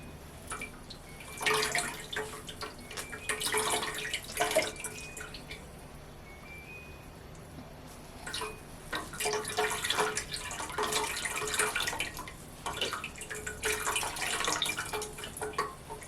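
Warm water drips and trickles while coconut cream is strained for coconut rice, with irregular splashing bursts separated by a quieter pause, close and fairly soft, no voices.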